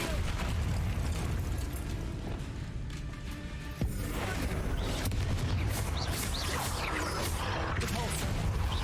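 A Bombarda blasting spell going off in a wizard video game: booming explosions and crackling bursts over a dense, continuous din of magical combat effects.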